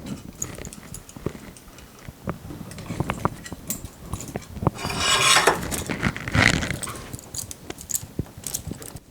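Screws are worked out of the footrest of an FLJ SK3 Pro electric scooter, with close scraping, rasping turns and small metallic clicks and knocks in an irregular rhythm.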